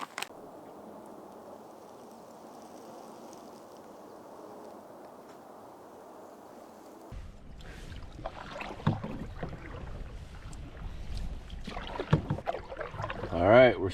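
Paddles dip and pull through a lake from a canoe on a fall camping trip, a steady low hum giving way to irregular splashing and knocking strokes that grow louder toward the end.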